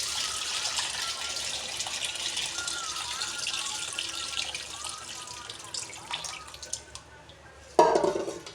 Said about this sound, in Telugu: ఇప్పుడు చూడండి చింతపండు గుజ్జు పోస్తున్నాను ఎలా ఉంటుందో.